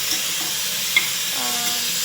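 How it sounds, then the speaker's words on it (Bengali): Onion greens fry in a pan with a steady, even sizzle, and a brief utensil tap and stirring scrape come near the middle. "আমি এখন পেঁয়াজ কলি ভাজা করছি।"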